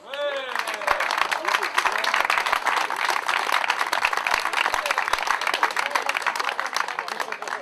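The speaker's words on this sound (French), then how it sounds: "C'est un tonnerre d'applaudissements, monsieur Lambert Meyer." A dense, steady round of applause fills a prize ceremony honouring Lambert Meyer, with many hands clapping continuously at close range; a voice is heard briefly at the start.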